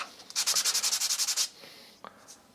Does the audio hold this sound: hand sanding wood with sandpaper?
yes